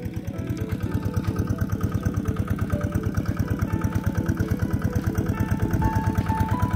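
A newly installed 60-foot deep well irrigation pump runs on an engine, idling with a loud, steady, rapid chug that keeps going through the whole clip with no talking.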